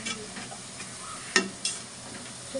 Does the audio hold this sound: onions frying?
yes